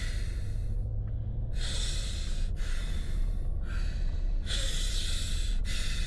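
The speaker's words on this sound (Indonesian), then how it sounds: "Bisa biasa aja nggak napasnya?" Loud, close breathing into a microphone during a casual mukbang chat, with several long breathy bursts and sharp inhale-like breaks repeating across the stretch, steady and heavy throughout with no talking.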